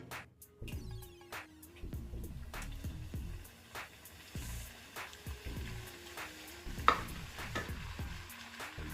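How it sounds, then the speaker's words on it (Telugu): Wheat flour and jaggery appalu frying in oil on a medium flame, with a soft steady sizzle broken by repeated clinks and scrapes of a spoon against the pan. "మిగతా పిండినంతా కూడా మీడియం ఫ్లేమ్ మీద పెట్టేసుకొని వేయించుకోవాలి."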